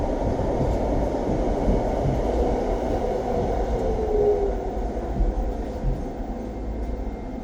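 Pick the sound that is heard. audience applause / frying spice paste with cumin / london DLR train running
london DLR train running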